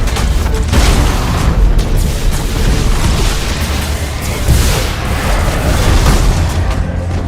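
Thunderhawk bombardment explosions in the space battle game Battlefleet Gothic Armada 2, a loud, dense, continuous barrage of booms and rumbling blasts running the whole time without letup.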